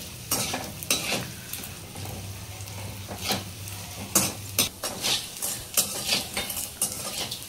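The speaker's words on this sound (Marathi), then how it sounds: "1 वाटी डिंक आहे, हा आपण तेलामध्ये छान असा तळून घ्यायचा आहे" Edible gum (dink) fries in ghee with a soft, steady sizzle, broken by repeated metallic clinks and scrapes of a spoon stirring in the pan.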